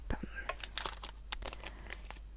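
A sealed package containing a Harry Potter medal is torn and crinkled open at close range in quick, irregular rustling bursts.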